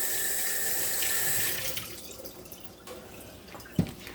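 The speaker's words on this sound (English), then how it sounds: "I'm going to run some water over this other one." Tap water runs into a kitchen sink over an ear of corn, a steady hissing stream that stops partway through and leaves faint drips and a sharp knock.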